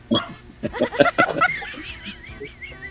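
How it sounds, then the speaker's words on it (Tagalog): A dog yelps and barks in a quick, excited burst, followed by a thin whining tone, fairly close. "yan ang aso namin."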